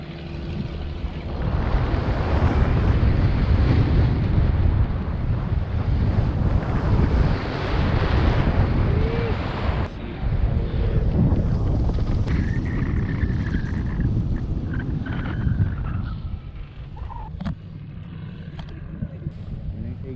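Strong, steady wind buffets the microphone throughout during paragliding over the Huacachina dunes, a broad roaring rush that swells and eases with brief quieter dips near the end.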